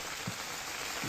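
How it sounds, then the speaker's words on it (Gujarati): Heavy monsoon downpour in Borsad, Anand district, central Gujarat, heard as a soft, even hiss of rain falling on surfaces, fairly quiet and unbroken, with no voices. "મધ્ય ગુજરાતમાં ધોધમાર વરસાદ યથાવત।"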